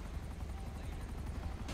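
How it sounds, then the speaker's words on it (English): Helicopter in GTA V during a police tactical chase, a low rhythmic rotor thump and engine drone heard at a distance, faint and steady throughout the short stretch. "Oh, that helicopter finna blow up."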